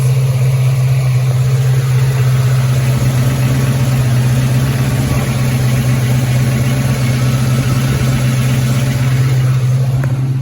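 A car engine with an old mechanical fuel pump idles loudly and steadily up close, a deep constant hum with a mechanical rattle layered over it throughout.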